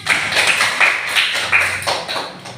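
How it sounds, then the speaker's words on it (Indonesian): A class of students claps for a group after its presentation, short bursts of light, close hand-clapping and tapping in an uneven rhythm over several seconds. "Kita kasih aplaus dulu untuk kelompok 1 nak"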